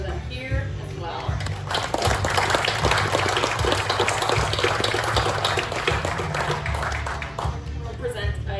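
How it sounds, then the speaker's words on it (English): A room at a county board meeting fills with sustained applause, dense and fairly loud, lasting several seconds before fading slightly. "I would just like a quick round of applause for them here as well"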